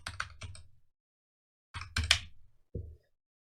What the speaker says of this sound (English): I'm gonna type in yoga exercises